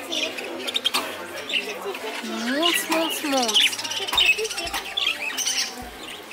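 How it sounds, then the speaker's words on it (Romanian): A pet parrot in a shop selling hamsters gives squawking, warbling calls with rising and falling whistles, close by, while children and adults talk over and around it. "Papagal."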